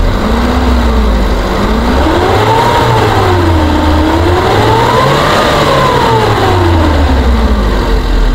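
A 2008 Suzuki Futura pickup engine revs up toward 4,000–5,000 RPM and back, loud and close, in smooth rising and falling sweeps over a steady low drone, with no voices.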